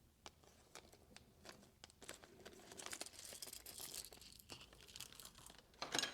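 Plastic parts bags from an Axial SCX10 II UMG10 4WD RC car kit are cut and torn open, giving a run of crinkly, crackling plastic rustles and snips, close and fairly quiet, with no talking.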